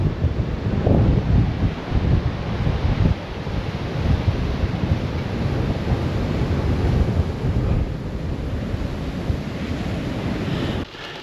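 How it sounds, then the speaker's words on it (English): Ocean waves crash continuously against the Iceland coast in a loud, steady surf roar, with strong wind buffeting the microphone throughout and no voices. "some epic waves"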